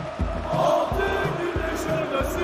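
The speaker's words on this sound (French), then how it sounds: "La foule entonne le chant d'Izmir" A Turkish football stadium crowd chanting the Izmir march, the Kemalist anthem, a massed rhythmic chorus with regular pounding beats repeating steadily and loudly.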